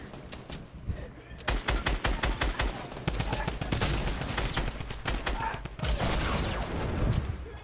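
Rapid bursts of automatic gunfire in the video game Fortnite, loud and dense, with sustained volleys and sharp repeated cracks back to back, no talking.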